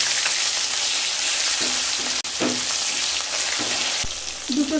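Rohu fish pieces frying in mustard oil in a wok after being turned, a loud, steady close sizzle broken by a sudden dip and a few soft scraping knocks.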